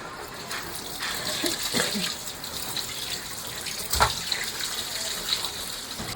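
Pabda fish are rinsed under running tap water, a steady splashing flow with some clatter and sloshing as the fish are handled, fairly close and continuous throughout.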